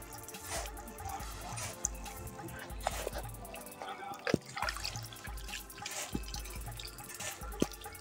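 Warm water runs and splashes over hair during a rinse at home, a steady trickling wash broken by sharp drips and knocks, fairly close.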